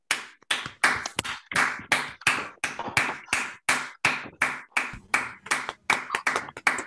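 Separate hand claps from online meeting participants coming through unmuted microphones, a sharp, evenly spaced run of about twenty claps, close and fairly loud, with no talking.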